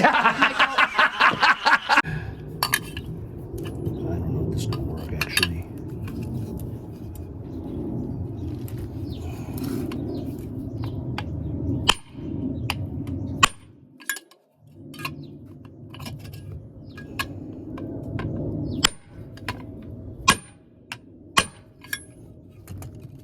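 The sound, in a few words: banging a part out with a big socket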